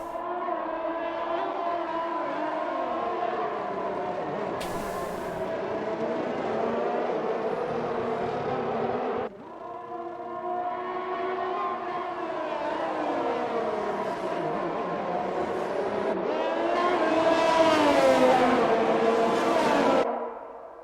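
F1 racing cars in a video game pull out of the garages at Hungaroring, Hungary, engines droning and whining in layered, shifting pitches that swell and fade as cars pass, ending in a louder rising rev.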